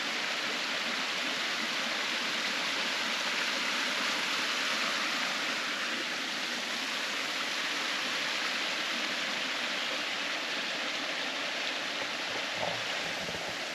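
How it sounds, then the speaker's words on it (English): A waterfall on Oahu, Hawaii rushes from a distance as a steady, faint wash of broadband noise that holds unchanged throughout with no voices over it. "over here we have a waterfall"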